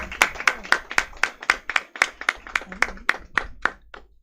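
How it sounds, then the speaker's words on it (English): A small audience at an inaugural function for a fermented-foods certificate course applauds for the chief guest, with sparse, distinct handclaps in a loose, fairly regular rhythm heard close and clear. "Can we have a round of applause?"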